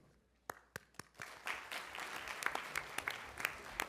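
An audience at a Board of Education action meeting applauds, starting with a few sharp separate claps that swell into steady, moderately distant clapping, with no voices.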